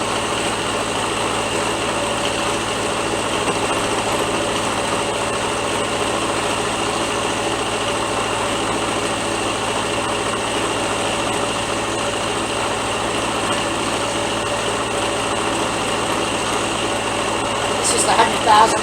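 A milling machine runs an end mill through T-nuts, giving a steady, continuous mechanical hum and whir at a constant level for the whole stretch, with a slight rise near the end.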